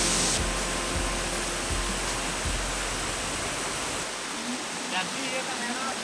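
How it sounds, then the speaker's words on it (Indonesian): The Bidadari waterfall rushing nearby, a loud, unbroken hiss of falling water filling the air, with a few low thumps early on. "inilah air terjun Bidadari"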